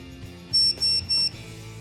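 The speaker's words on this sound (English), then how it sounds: "So you're simply going to touch those dots together and you're going to hear a beep." Touching the magnetic contact dots on an e-collar transmitter sets off three short, high-pitched electronic beeps in quick succession over a faint background hum.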